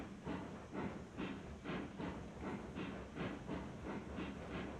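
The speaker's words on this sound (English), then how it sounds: "Yeah, it looks like the whole train's moving." A steam-hauled 18-car manifest freight train rolls along in Railroads Online, with rhythmic chuffing beats repeating about twice a second over a continuous rumble and hiss.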